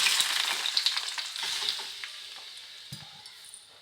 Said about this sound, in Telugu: ఈ టమాటా ముక్కలు అనేది మనమైతే ఆయిల్లో వేసుకుందాము.